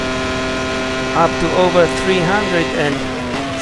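A 1996 Arrows F1 car in the racing game Automobilista holds a steady, high-pitched engine whine at full throttle along a long straight, droning continuously while someone talks over it.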